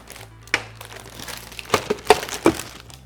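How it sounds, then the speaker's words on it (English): Parchment paper crinkles and crackles in a few sharp bursts as a chocolate roll cake sheet is flipped over with a cookie sheet, close and fairly clear, with no talk. "Now you're gonna take a piece of parchment paper again, put it on top."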